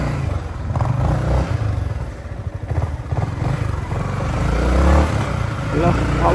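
A motorcycle setting off, its engine rumbling and revving up from close by while someone talks over it.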